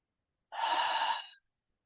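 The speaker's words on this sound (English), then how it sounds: "Full breath in, followed by that full breath out with the sound of Ujjayi" A single full Ujjayi yoga breath, a soft, close, breathy rushing sound in and out lasting under a second, heard alone against silence.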